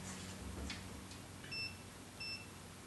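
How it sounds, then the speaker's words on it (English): A multimeter set to continuity, used to test an oil pressure switch on a GM vehicle, gives two short electronic beeps about a second apart. The beeps are faint and sit over a quiet background hiss. "you'll hear that audible signal on my multimeter"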